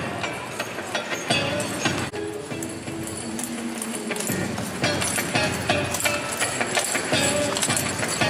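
A single draft horse trotting with a cart in a show-ring class, hooves clip-clopping in a busy rhythm amid wheel and harness rattle, with arena noise and faint voices.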